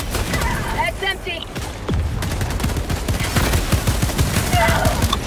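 Rapid gunfire crackles through a firefight in Helldivers 2 on Malevelon Creek, dense overlapping bursts that stay loud and continuous, with other battle noise and voices mixed in.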